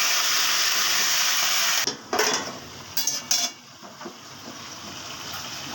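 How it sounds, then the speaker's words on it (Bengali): Bottle gourd curry is stirred with salt and turmeric in a pan: a steady wet sizzle runs throughout, broken by a few clattering scrapes and knocks of a utensil against the pan in the second half. "আর সেরকমভাবে ভালো করে নুন হলুদ দিয়ে মিশিয়ে"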